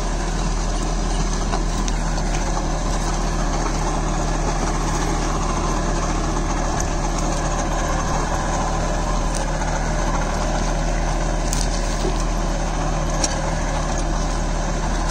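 A Captain 8G 283 4WD mini tractor pulling an MB plough through clay soil, its engine droning steadily and loudly for the whole stretch with no voices.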